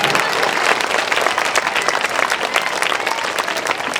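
Sustained applause from an audience at a school talent test event honouring chief guest Bandi Narayana Swamy, dense steady clapping throughout, fairly close and loud with no voices on top.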